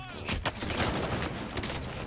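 Gunfire in the Call of Duty Warzone video game: a rapid burst of sharp shots, loud and close, with more scattered shots trailing after and no speech over it.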